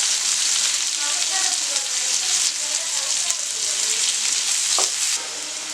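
Curry leaves crackle and sizzle in hot oil in a kadai while quail is cooked for a kadai roast, a steady close frying hiss with a few sharp pops near the end.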